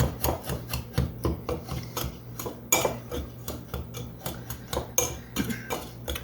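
A Danish dough whisk stirs dry muffin ingredients, including baking soda and baking powder, in a bowl with quick rhythmic scraping and rasping strokes, close and fairly quiet, with no talking.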